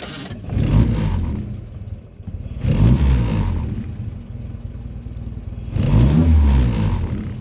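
A 1950s Triumph TR2 sports car engine, close by, settles into a rough idle and swells through three throaty revs, each rise followed by a drop back to a rumbling idle.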